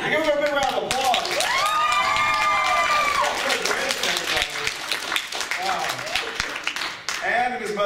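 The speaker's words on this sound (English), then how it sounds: "Give him a big round of applause." An audience at an anime convention panel breaks into applause with cheering and whoops, a dense wash of clapping that holds steady for several seconds.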